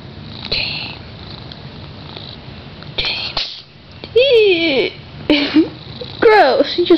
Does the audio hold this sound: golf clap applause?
no